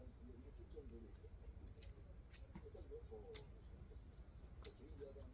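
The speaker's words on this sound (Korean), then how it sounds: "그래서 이런 식으로 길이는 계산하지 말고 조금 긴 듯하게 잘라주세요." Scissors snip chrysanthemum cuttings for bonsai propagation, giving a series of sharp, close, separate clicks spread irregularly over a low background murmur.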